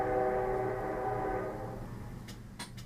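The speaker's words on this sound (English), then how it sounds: "So did you hear that train whistle?" A train sounds a sustained whistle, loud and steady for about a second and a half before fading, followed by a few faint clicks.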